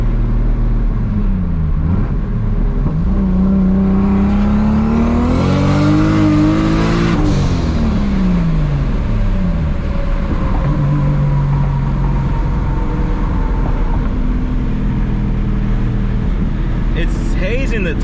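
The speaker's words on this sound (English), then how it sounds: "It's hazing the tires." A Toyota MKIV Supra on Street SS tires spins its wheels while accelerating hard, the engine climbing loudly in pitch, peaking and falling away, then droning on with roaring road noise, close and constant, with voices partly underneath.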